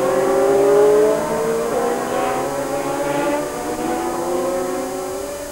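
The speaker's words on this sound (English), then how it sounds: "There's Kinnew in the ex-Nigel Mansell Lotus, being pursued by another very famous Lotus" Historic Formula 1 Lotus race cars, including the ex-Nigel Mansell car chased by the ex-Gunnar Nilsson 77, pass by on the Magny-Cours circuit with a loud, steady engine roar. The pitch shifts as they go past. No one speaks.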